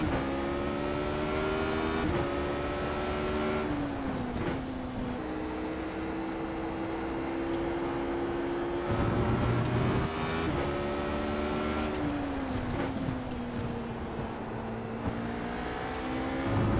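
A race car engine in the iRacing sim hums steadily at high revs, its pitch stepping up and down through gear shifts, continuous and close with no voices over it.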